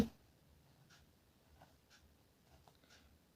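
Chalk or marker writing an answer on a classroom board during a math lesson, faint scratchy strokes in a few short bursts over a quiet room.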